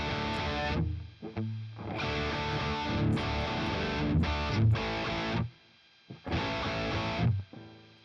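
Electric guitar through a lead amp tone with boost, loud distorted chords and riffs played in bursts with short gaps of near silence between them, close and alone.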